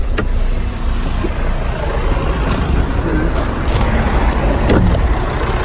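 A turbocharged Audi Q5 engine, freshly fitted with a new turbo, idles close by in a steady low rumble with a faint whine, broken by a few brief clicks and knocks.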